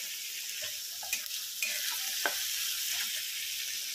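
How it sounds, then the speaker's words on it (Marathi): Tomatoes sauté in an iron kadhai with a soft, steady sizzle, broken by a few sharp scrapes and taps of a spatula stirring them. "तर आपले टोमॅटो असं छान असं परतलेलं आहे।"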